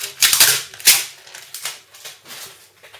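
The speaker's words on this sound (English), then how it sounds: "Just take this sticker off." A sticker is peeled off a Motorola Atrix laptop dock, making a few sharp crackling rips and ticks close up, with softer peeling scratches trailing after.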